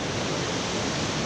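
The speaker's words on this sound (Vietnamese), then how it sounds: "Tiếng nước suối chảy róc rách nghe rất là êm tai luôn." A mountain stream babbling in winter, heard as a steady, dense rush of water that fills the whole clip at an even level, with no talking over it.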